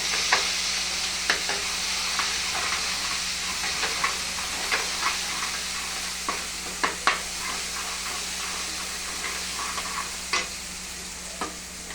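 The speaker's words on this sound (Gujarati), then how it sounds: "લીલો મસાલો બરાબર તેલમાં ફ્રાય કરી લેવો" Green masala paste fries in hot oil in a kadai with garlic, a steady dense sizzle and hiss throughout, broken by scattered sharp spatters and a few stirring clicks, close and loud with no voices.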